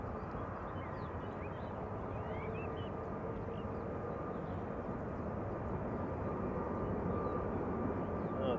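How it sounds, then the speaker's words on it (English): A Hi Fly Airbus A330 airliner arrives at Manchester Airport with a steady, broad jet roar that holds at a constant moderate level, heard from a distance with no talk over it. "there's a High Sky A330 in"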